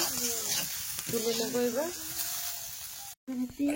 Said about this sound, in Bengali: এই যে বেগুন ভাজা হয়ে গেছে